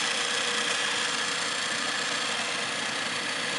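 A Hardinge HSL-59 super precision speed lathe, wired for 220 volt three-phase, runs with a steady, even motor hum and a faint high whine, unbroken and close by, with no one talking.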